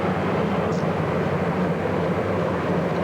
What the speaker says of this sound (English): Marine One with the president is passing overhead.